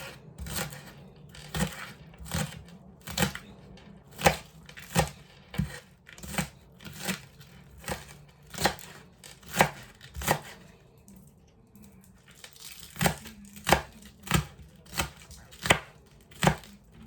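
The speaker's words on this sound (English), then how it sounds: "So I'm just cutting them up like so." Knife chopping green seasoning vegetables on a board for Jamaican callaloo and saltfish: about twenty-five sharp, close chops in a steady, fairly even rhythm, with a brief pause before the chopping resumes, and no talk.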